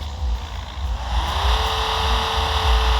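A newly bought car's engine revs loudly and steadily up close, its pitch climbing and then holding at a sustained high drone.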